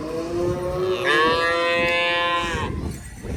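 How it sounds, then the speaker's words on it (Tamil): A single long, loud moo from a nearby cow at a Maattu Pongal festival in Jaffna, rising then holding steady for over a second before fading into quiet outdoor ambience. "என்ன எல்லா இடத்தையும் அம்பான்னு சத்தம் கேட்கும்."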